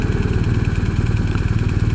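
A BMW R1250RS motorcycle engine running with a steady, fast pulsing throb and a rough low-pitched beat, loud and close, with no voices.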